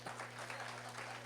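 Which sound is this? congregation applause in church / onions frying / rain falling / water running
congregation applause in church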